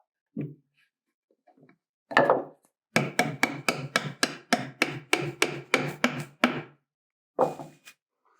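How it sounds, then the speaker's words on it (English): Tapered wooden dowel peg being driven into a workbench joint, a run of about a dozen sharp, evenly spaced hammer taps, close and loud, after a few scattered knocks and with one more tap at the end. "As I tap the peg into the joint, the taper pushes against that half dowel and draws the entire joint together."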